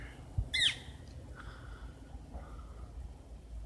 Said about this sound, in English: Yeah, that's a woodpecker.